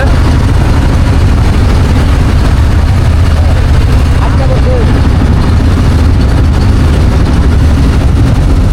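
Loud, constant low rumble of a boat engine running during a river boat ride, droning without pause, with faint voices partly audible beneath it.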